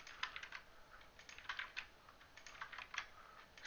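Quick keyboard shortcuts tapped on a computer keyboard while playing Dofus, a run of light, irregular clicks close to the microphone with no voices.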